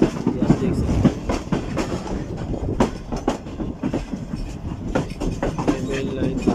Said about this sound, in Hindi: ये हमारी ट्रेन ने मेन लाइन छोड़ दी है और हम कॉर्ड लाइन में जा रहे हैं